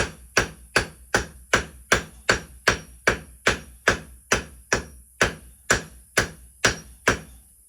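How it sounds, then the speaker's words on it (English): Sixteen evenly spaced, ringing cross-peen hammer blows on hot steel being forged, close and loud, each decaying quickly before the next strike. "I use the cross peen of the hammer to spread out the material"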